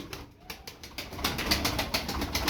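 Tumbler pigeons of a performing flight breed give rapid flapping wing claps and bursts of fluttering, close and fairly loud, with no talk.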